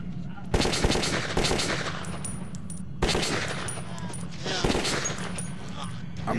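Sustained automatic gunfire in the post-apocalyptic shooter game Metro 2033, loud dense bursts with brief pauses, a player's voice talking over the shooting.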